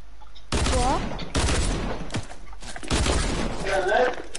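Bursts of gunfire in a Fortnite Creative match, several loud rapid volleys separated by short gaps, with voices talking and shouting over them.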